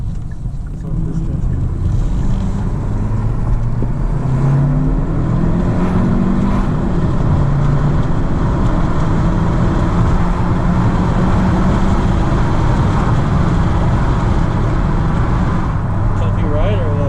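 A 2021 Hyundai Sonata driving on the road, with a steady low engine and road drone and smooth tyre noise from inside the cabin, continuous and fairly loud throughout.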